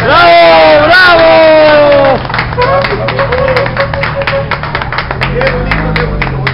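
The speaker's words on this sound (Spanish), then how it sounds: "¡Qué bonito, qué bonito, bonitos aplausos!" Audience clapping and applause at a mariachi performance for a mother, starting under a sustained sung or shouted voice, then continuing as dense, steady clapping with a few scattered cheers.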